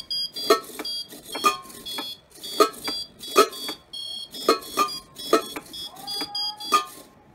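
An electronic buzzer on a servo and LED project sounds a series of short, sharp beeping tones in an uneven rhythm, with a brief sliding tone near the end, close and clear.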